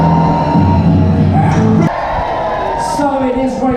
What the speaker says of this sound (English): one last cheer after 3